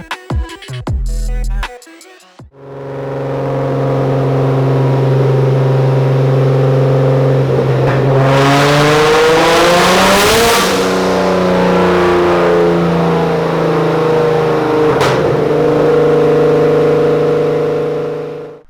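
Turbocharged Nissan 350Z drift car roaring on a dyno, a loud sustained engine drone with rising and falling revs and a sharp surge midway, preceded by brief clatter.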